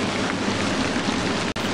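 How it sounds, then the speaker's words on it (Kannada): Steady rain pours down in an animated folk-tale scene, a dense continuous hiss with no talk and a brief cut near the end. "ಈ ಮಳೆ ನಿಲ್ಲೋ ಹಾಗೆ ಕಾಣೋದಿಲ್ಲ."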